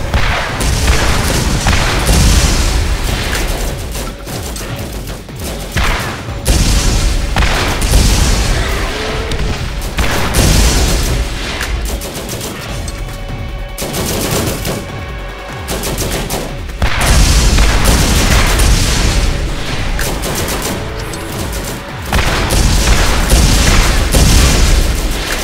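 Automated turret deployed in Borderlands blasting away in sustained bursts of rapid gunfire and booms, loud and continuous across the stretch with brief lulls between volleys.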